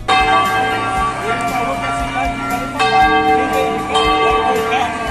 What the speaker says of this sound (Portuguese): ouvir o badalar desses sinos que se comunicam entre si